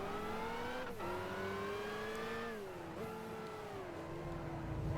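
Rear-wheel-drive race car engine in Gran Turismo 5 during a German Touring Car Championship race, a loud steady drone with rising and falling pitch as it shifts gears and revs, continuous throughout.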